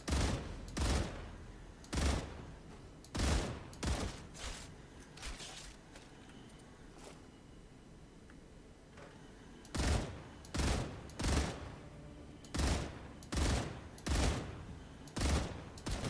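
Gunfire in the video game StarRupture: two bursts of rapid, evenly spaced shots separated by a quieter stretch, sharp and close with no talk over them.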